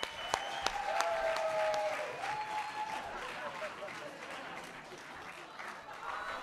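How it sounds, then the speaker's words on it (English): Audience applause and cheering welcoming performer Tony Moore onto an outdoor bandstand stage in Bedford, a steady crowd roar with whistles rising briefly early on, holding at a fairly even level throughout. "put a little extra love and a little extra excitement into your applause"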